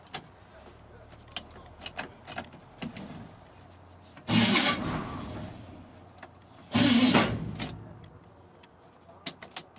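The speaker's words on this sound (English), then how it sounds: "the starter hasn't got enough in it." The starter motor of a 1979 light-duty truck with a poor battery terminal cranks weakly in two separate bursts of a few seconds each, with quiet clicks and shuffling between them.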